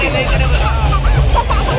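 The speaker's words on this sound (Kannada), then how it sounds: "crowd crowd crowd" A short stretch of loud, steady crowd babble at the Mysuru Dasara Yuva Sambhrama cultural festival, with many overlapping voices and scattered chatter blending into a continuous hubbub.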